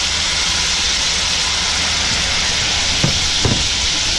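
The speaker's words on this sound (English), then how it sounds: "now that the fire has gotten hotter, we're gonna sprinkle soy sauce on it" Soy sauce poured over yellowtail in a hot pan, giving a loud, steady broadband sizzle throughout with a couple of brief sharper crackles near the end.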